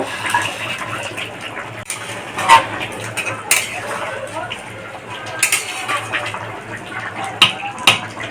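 Lentil dumplings (bori) clatter into a pot of boiled potato curry with Puin stalks, with scattered clinks of utensil on metal and a soft background hum, close and fairly quiet.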